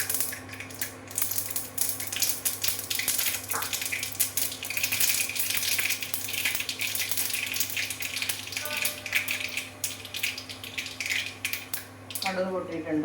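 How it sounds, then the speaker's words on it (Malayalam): Mustard seeds spluttering in a hot pan while a Kerala fish curry with ground coconut is started, giving dense crackling pops and sizzling throughout, with a few sharper bursts near the end. "കടുക് പൊട്ടിയിട്ടുണ്ട്."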